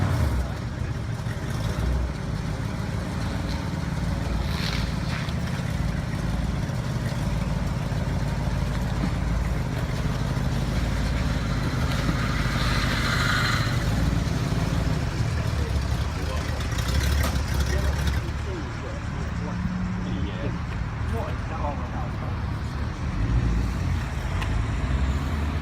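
A restored 1959 Cadillac Coupe with a 390 engine runs steadily, a low, continuous engine rumble heard from inside the car for the whole stretch, with some road noise and a few faint knocks.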